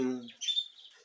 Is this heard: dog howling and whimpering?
no